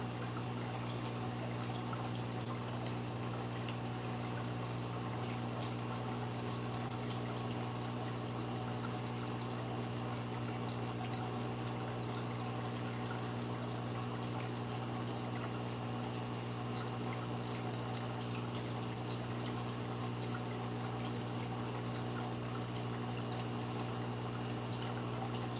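Steady running water flows continuously and evenly throughout, a constant close wash with no voices over it.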